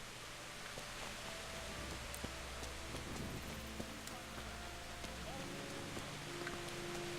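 Steady rain falls in the video game Kingdom Come Deliverance, a soft continuous patter and hiss at low level, with occasional faint drops and muffled game sounds underneath.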